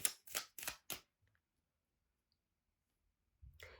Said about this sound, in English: I'm shuffling very carefully the cards,